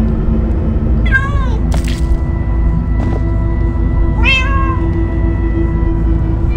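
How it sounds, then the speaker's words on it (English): Several cats in Minecraft: Story Mode giving a few short, clear meows over a constant low rumble, with spoken lines around them. "Ah, many cats. So many cats."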